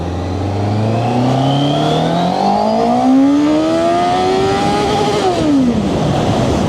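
A QJMOTOR SRK600RS motorcycle engine revs up loudly in first gear, its pitch climbing steadily through one long pull with a jerky throttle, then dropping off sharply near the end as the bike eases toward neutral.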